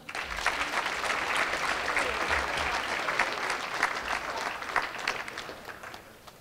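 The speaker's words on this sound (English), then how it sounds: "so that they can hear your resounding applause for their efforts once again" An audience at a school district scholars program applauds in a steady, dense wash of clapping that holds for several seconds, loud and close, with no speech over it.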